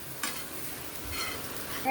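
Bitter gourd frying in a pan, a soft, faint sizzle with light crackle, steady and close with no talking.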